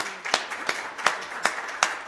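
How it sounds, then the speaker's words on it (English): A small audience at a founders fireside chat claps sparsely, with a handful of distinct, spaced hand claps standing out over a quiet room. "Everybody, give her a round of applause."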